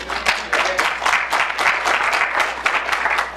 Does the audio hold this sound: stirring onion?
no